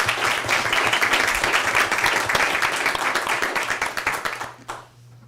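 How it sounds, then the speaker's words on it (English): A roomful of people applauding students at a school board meeting, with dense, sustained clapping that holds steady before tapering off at the end, along with a low hum underneath. "Let's give those students a round of applause."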